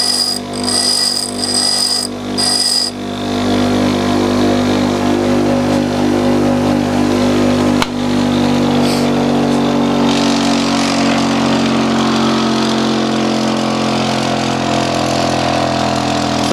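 A drill bit grinding machine sharpens a twist drill bit as the bit is turned 180 degrees for a matching cut: a loud, steady motor hum with grinding noise, opening with a few brief high-pitched whines.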